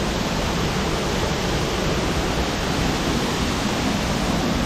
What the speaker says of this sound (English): Guys, check out this waterfall.